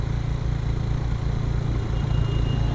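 A TVS Victor motorcycle engine with a 3V carburettor revs high and steady, a loud continuous drone with a strong low hum that holds without pause, close by.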